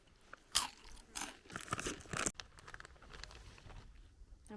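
Crunchy rolled tortilla chips like Takis are bitten and chewed up close outdoors on a hike, a burst of sharp crunches followed by softer irregular chewing, no talking.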